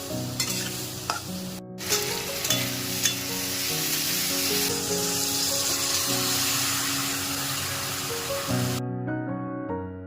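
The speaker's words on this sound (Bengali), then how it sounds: "আমি ওদিকে রুটিগুলো ভেজে নেব।" Rotis frying in a hot pan give a steady, close sizzle with stirring scrapes that runs for about nine seconds before cutting off abruptly.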